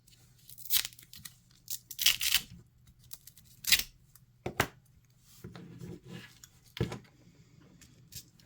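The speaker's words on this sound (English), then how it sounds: "I get out my trusty pair of scissors" Several sharp snipping and crunching sounds at irregular intervals, close by, scissors cutting through stiff material, a 3D-printed race chassis part, with quiet pauses between cuts.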